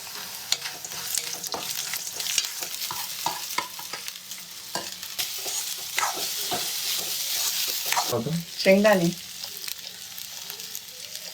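Sabudana khichdi with potato and cumin fries in oil in a pan, a steady close sizzle with frequent spatula scrapes and stirring, and a brief voice near the end.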